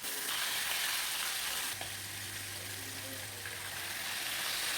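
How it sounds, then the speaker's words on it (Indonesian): Chicken fries in hot oil in a Teflon pan, a steady dense sizzle that holds up close with a low hum underneath. "Minyak udah panas, saya masukkan ayamnya."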